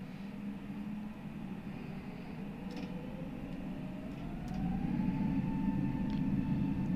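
Airbus A320 (FlyByWire A32NX) in Microsoft Flight Simulator 2020 rolling down the runway for takeoff, a steady broad engine roar that swells louder partway through as thrust builds, with a faint rising whine, no talk.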